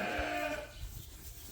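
A white lamb bleats on a sheep farm. The wavering bleat comes up close and fairly loud, then fades into barnyard background noise.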